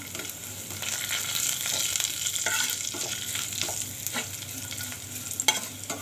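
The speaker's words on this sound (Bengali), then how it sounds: "আমি কালো জিরা দিয়ে দিলাম" Black cumin seeds sizzling in hot oil for a dal, a steady crackling fry with occasional scrapes of a spoon stirring in the pan, close by and without voices.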